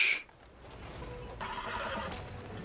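A horse in Red Dead Redemption 2 lets out a short, sharp neigh at the start, followed by quieter clopping hooves and faint mechanical clicks over a low game ambience.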